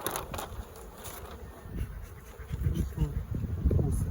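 Carniolan honey bees buzzing around a hive, a close, steady drone with rustling and handling noises, growing louder toward the end as someone speaks faintly.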